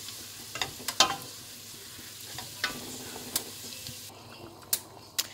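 Beef stock goes into a pan of frying onions for French onion soup, with a low sizzle and scattered sharp clicks and scrapes of a utensil, the sizzle briefly changing as the liquid hits.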